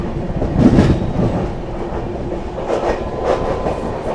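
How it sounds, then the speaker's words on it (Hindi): Kalindi Express passenger train passing close from the opposite direction, a loud continuous rumble of wagons with rhythmic clickety-clack of wheels over rail joints throughout. "यहाँ पर सामने से आ रही है अपनी कालिंदी एक्सप्रेस"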